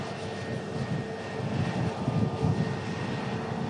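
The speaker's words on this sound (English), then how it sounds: "Egypt 321 Neo arriving in from Cairo. Taxis past us at the runway visit park here at Manchester Airport." EgyptAir Airbus A321neo arriving from Cairo, taxiing past at Manchester Airport: a steady, moderately loud jet engine whine and rumble holds throughout, swelling slightly midway, with no talk.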